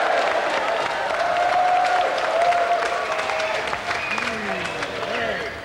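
A studio audience at a television video-game show applauds the winner, a sustained broad patter of clapping with cheering and whooping voices rising over it.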